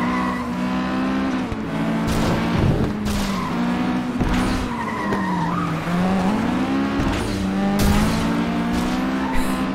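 A FlatOut 2 car races along with a loud, steady engine drone and repeated tire squeals, punctuated by sharp impact thuds as it smashes through a roadside billboard and other objects.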